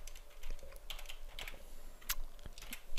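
Rapid, irregular clatter of keystrokes on a computer keyboard, crisp clicks close by with a few sharper, louder taps, no talking.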